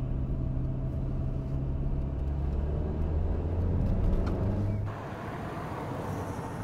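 A car drives along with a steady low road rumble inside the cabin, then the tone shifts abruptly to a rougher, noisier wash of road and engine sound.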